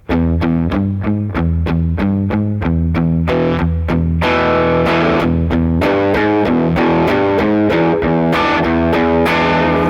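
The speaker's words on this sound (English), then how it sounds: "the distortion level changed just by attacking harder" Distorted electric guitar plays a blues walking rhythm pattern, starting with lighter picking and then attacked harder so the crunch and sustain grow thicker and louder, loud and continuous with no talking.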